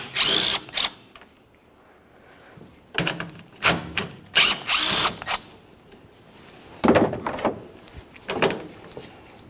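A power drill backs out 10mm-headed screws holding a license plate bracket to the bumper of a 2004-2015 Nissan Titan, in several short, sharp whirring bursts separated by quiet pauses.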